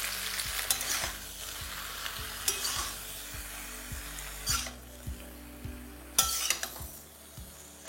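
Eggplant with turmeric and salt sizzles in a frying pan while a spoon stirs it, a soft frying hiss broken by repeated scraping strokes and light clinks against the pan at an uneven pace.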